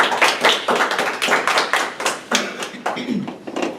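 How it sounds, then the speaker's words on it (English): Dense applause from a crowd, many hands clapping steadily and fairly close for several seconds. "round of applause."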